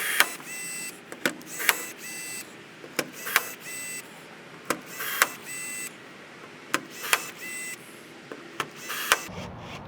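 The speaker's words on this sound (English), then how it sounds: "we're going to use our cordless rivet gun and go ahead and clamp them down" Cordless rivet gun setting rivets into solar panel brackets on a trailer, giving a series of sharp, irregularly spaced clicks and snaps with brief whirring bursts between them, close and fairly loud.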